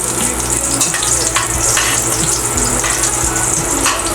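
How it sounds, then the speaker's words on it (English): Ginger sautéing in a hot pan for a Filipino ginisang pechay, with a loud, dense, continuous hiss of oil and occasional stirring scrapes. "we first saute your ginger"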